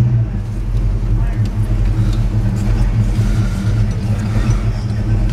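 A 1967 Mercury Comet Caliente convertible's engine runs loud and close with a deep, steady rumble and slight revving throughout.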